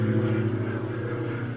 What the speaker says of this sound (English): Noisy planes.